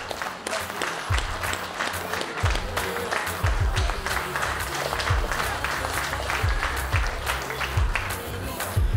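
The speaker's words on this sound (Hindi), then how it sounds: "ताली बजती रहे भाई।" An audience at an award ceremony for a Bihar and Jharkhand Diwas event claps steadily throughout, dense sustained applause with a few louder claps near the microphone and faint voices underneath.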